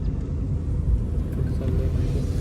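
A car rolls along a scenic village road near Walen in Mulshi, its low engine and tyre rumble a steady, loud drone with no voices.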